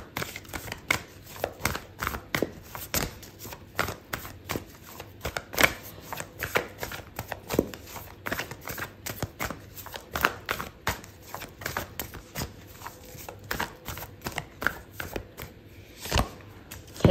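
Oracle cards shuffled by hand during a tarot reading, a long run of crisp, rapid riffling and slapping strokes, close and steady throughout with no talking.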